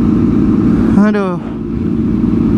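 A Kawasaki ZX25R motorcycle on a night ride through the city rumbles steadily, with a brief rising and falling rev, while a rider's voice speaks nearby.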